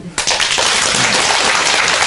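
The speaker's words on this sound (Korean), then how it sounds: "박수." Applause from an audience bursts in suddenly after a short quiet moment, then holds as a loud, steady wash of clapping.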